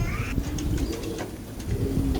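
A pair of pigeons coo low and steady at close range over continuous background rumble, with a brief higher call near the start.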